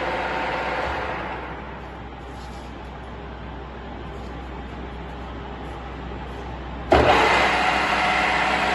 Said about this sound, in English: Working on spindle at its maximum speed, that is 2000 RPM.